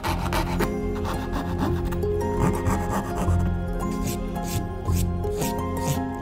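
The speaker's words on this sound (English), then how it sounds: "sawing out the excess" A hand saw cuts through a wooden stick that has a paper bow template glued on, trimming away excess wood in steady rasping back-and-forth strokes, close and loud, with no voices.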